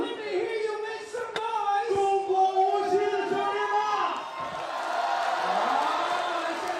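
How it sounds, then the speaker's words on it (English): Arena crowd at a FIBA 3x3 World Tour basketball event in Shanghai cheering for Team Wuxi, a broad roar of voices that builds in the second half after an announcer talks over the venue. "Who here is cheering for Team Wuxi?"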